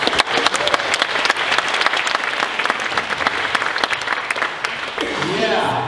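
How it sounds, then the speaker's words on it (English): An audience at a psychic entertainment show applauds loudly and continuously, a dense spray of clapping that fades slightly near the end as a voice starts up. "Give her a round of applause"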